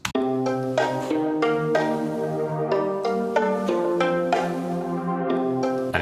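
A synth plays a plucked violin preset melody with short bright notes over a sustained pad tone, steady and close, with no voices.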